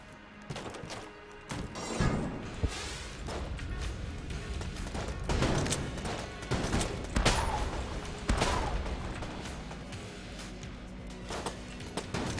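An Anvil gun fires in Enter the Gungeon, a steady run of heavy, clanking shots and crashing impacts thumping through a busy game room, loud and close throughout with brief gaps between volleys.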